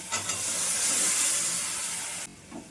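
Boiled potatoes and chickpeas hit frying masala in a pan, setting off a loud, steady, close sizzle and hiss that cuts off abruptly near the end, leaving a faint clink.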